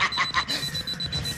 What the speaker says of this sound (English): The alarm!